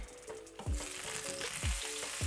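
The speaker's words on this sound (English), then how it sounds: "Now I will add the minced ginger." Minced ginger dropped into potatoes frying in oil in a pan, an intense close sizzle with several stirring scrapes and knocks at a low heat, with no voices.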